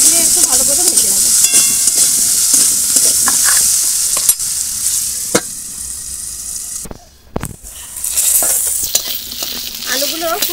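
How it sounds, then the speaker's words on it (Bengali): Potatoes frying in oil with salt and a little turmeric for a Bengali vegetarian dinner dish, a steady close sizzle with stirring scrapes throughout and a brief lull near the end. "আলুটা ঢাকা দিয়ে একটু ভালো করে ভেজে নেব"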